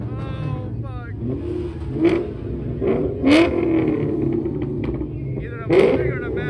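Mustang or Magnum engine revving at a car meet, several loud throttle blips with sharp popping cracks over a rumbling idle, nearby, with people talking faintly.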